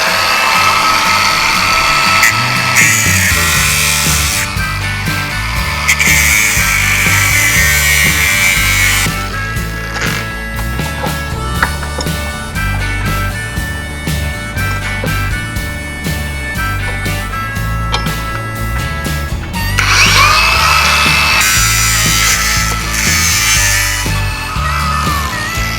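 A battery power tool cuts through a boat's through-hull fitting in a long steady whine, with continuous grinding and rattling and short pauses and restarts.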